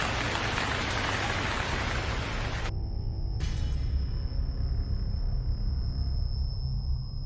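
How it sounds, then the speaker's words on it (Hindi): Steady, dense rain pours down throughout, a constant broadband hiss with a low rumble; a thin high tone joins partway through. "अचानक बारिश शुरू हो जाती है"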